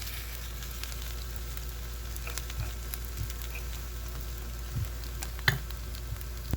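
Food sizzles gently in a frying pan under a steady low hum, with a few soft pops and clinks of stirring. The sound is fairly faint and even, with no talking.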